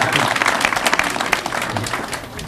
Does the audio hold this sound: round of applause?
yes